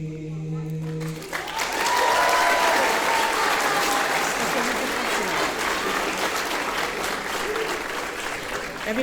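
Audience applause at a graduation ceremony: a broad, sustained wash of clapping from a large crowd that swells in after a sung closing note and holds steady and loud, with faint voices mixed underneath.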